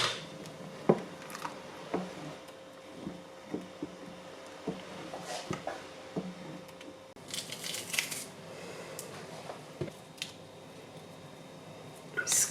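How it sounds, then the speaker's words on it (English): Four garlic cloves are squeezed through a press while preparing Polish żurek, a close series of soft squishes and sharp clicks scattered at irregular intervals over a quiet kitchen background. "Squeezing out 4 pieces of garlic."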